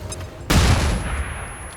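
A sudden loud burst of soldiers' gunfire in the video game XCOM 2, sharp onset then a decaying rumbling tail, standing alone without talk.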